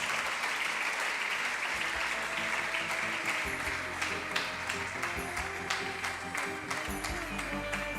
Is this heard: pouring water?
no